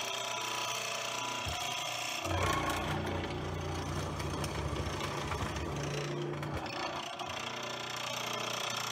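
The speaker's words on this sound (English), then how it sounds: "So I'll show you how it's done here at the mortiser." A mortiser chops a mortise into wood for a tenon joint, a loud rattling mechanical hammering and grinding that builds and holds for several seconds amid motor whine and workshop noise.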